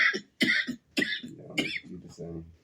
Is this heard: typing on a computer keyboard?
no